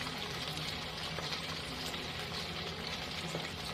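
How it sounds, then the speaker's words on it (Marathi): Sabudana vadas drop into hot oil over a medium flame and sizzle in a steady, close, continuous hiss with faint bubbling throughout. "हे आपण वडे करून घेतलेले आता तळायला सोडतो."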